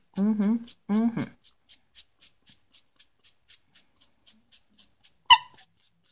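After a short vocal phrase, a regular series of soft rubbing scratches repeats at a steady pace as a rubber stamp surface is roughed up, followed by a sharp squeaky click.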